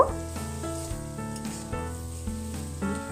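Fried potatoes being cooked with salt, sugar and turmeric in a kitchen pan, a faint continuous sizzle with a steady low hum underneath and occasional light stirring, close and quiet.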